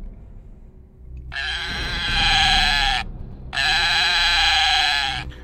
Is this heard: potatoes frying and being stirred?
no